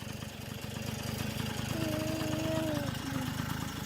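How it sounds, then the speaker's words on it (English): A small vehicle engine idles close by with a steady low chugging putter, left running so the gas clears from the carburetor. "we'll leave her running so that way the gas gets out of the carburetor"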